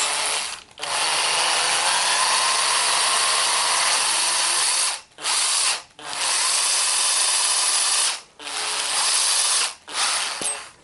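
Case trimmer cutting 30-30 Winchester brass cases during reloading, a loud steady grinding whir that runs in long stretches broken by brief pauses as cases are changed, with no voices.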